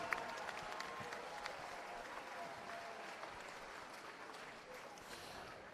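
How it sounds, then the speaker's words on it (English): A crowd at a live championship boxing event gives a round of applause, a sustained distant clapping with scattered cheers and faint voices underneath, fairly quiet throughout. "may we please have a round of applause for the main event"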